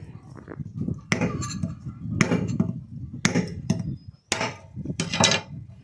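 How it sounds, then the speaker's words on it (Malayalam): Sharp woody chops and knocks land at irregular intervals as a very small coconut is hacked open by hand, with about six strong strikes, lighter taps between them and a faint voice in the background. "ഈ നളികേരം നമ്മൾ കട്ട് ചെയ്യാൻ പോവാണ്"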